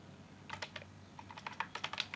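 Quiet typing on a computer keyboard during a Python coding session, with soft, quick key clicks in short irregular bursts over a low background hum.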